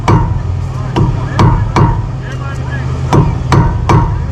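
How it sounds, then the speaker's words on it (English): A non-marring hammer taps a greased boat part into place on metal, about nine sharp knocks at an uneven pace, close and loud over a low background hum. "I'm using this non-marring hammer here."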